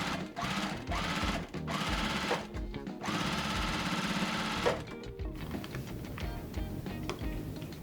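Domestic sewing machine stitching jelly roll quilt blocks into rows, running in several steady motorized bursts separated by short pauses, close and fairly quiet with no voices.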